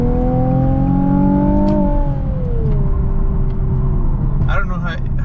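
A loud Nissan 370Z NISMO engine drones steadily close by at night, its pitch rising slightly then easing down, with a brief voice near the end.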